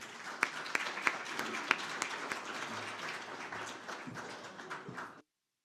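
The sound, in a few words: audience applause for panelists coming on stage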